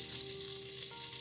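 Mustard seeds and urad dal spluttering in hot oil for a Tamil beetroot poriyal, a soft, steady hiss with fine crackles, faint and continuous.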